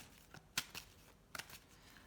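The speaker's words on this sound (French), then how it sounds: "je vais battre à nouveau les cartes" Tarot cards being shuffled by hand: a few soft, papery riffles and flicks, close and fairly quiet, in short bursts.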